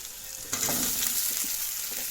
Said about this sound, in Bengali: পেঁয়াজ ফ্রাই হয়ে গিয়েছে এখন দিয়ে দেবো হলো বেগুন আর আলুগুলা দিয়ে দেবো